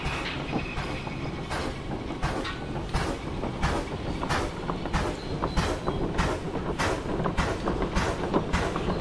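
A diesel shunter locomotive rolls along rails in the Derail Valley game. The engine drones under a steady rhythmic clickety-clack of wheels over rail joints, close and fairly loud, with no talking.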